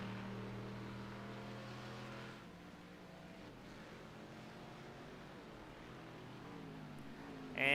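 A sports car in a sim racing game drones with a steady engine note for a couple of seconds and then fades into a softer wash of track noise. A brief burst follows at the end.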